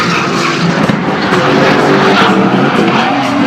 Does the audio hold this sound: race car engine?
yes